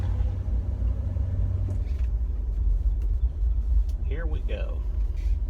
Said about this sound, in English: Roll through the neighborhood in the 59 Pontiac.